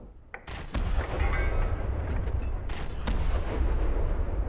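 A warship's main gun firing in the From The Depths video game: a deep, heavy boom, then a second blast about two seconds later, each leaving a long rumbling roll that keeps the sound loud throughout.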